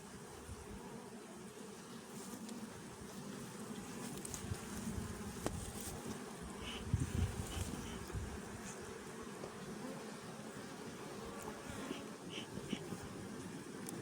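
Honeybees buzzing around a hive during an autumn colony split, a faint steady hum with occasional passing buzzes, heard outdoors without talk.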